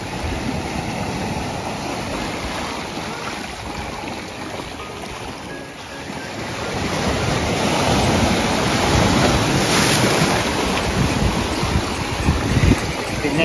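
Steady rush of sea waves washing in on a Japanese shore, broad and continuous, swelling louder in the second half with no voices.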